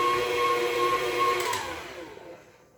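An electric mixer beats cheesecake batter with vanilla added, giving a steady, close whirring hum with a sustained motor tone that shifts slightly midway and then fades toward the end.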